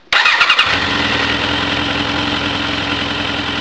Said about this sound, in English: Engine is up to operating temperature, and I'm getting it tweaked out to 1750 RPMs.